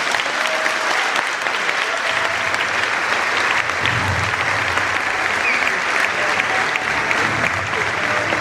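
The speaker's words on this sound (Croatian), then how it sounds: "Dame i gospodo, jednim velikim pljeskom pozdravite Ivu i Filipa" An audience at a 2012 Tavelićevo evening event greets the hosts with sustained, dense applause from a large crowd that stays loud and even throughout.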